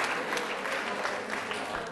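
Audience applauding during a Catalan spelling quiz game show, a steady dense wash of clapping heard alone for a couple of seconds.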